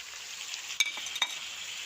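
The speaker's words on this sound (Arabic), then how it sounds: "2 حبات تاع بصل بحجم كبير وخليتهم دروك يتقلاو" Two large onions with four tomatoes and garlic frying in a pan give a steady, close sizzle, broken by two sharp utensil clicks.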